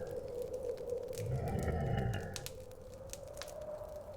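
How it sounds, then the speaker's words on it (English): A sleeping bear's long, droning snore rumbles low and steady, swelling in the middle and fading, heard alone without talk in a children's picture-book story about a bear that snores on. "But the bear snores on."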